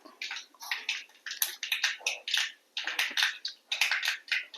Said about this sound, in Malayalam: ജീരകം കടുക്ക് ഇട്ട് കൊടുക്കണം കടുക് നന്നായിട്ട് പൊട്ടണുണ്ട്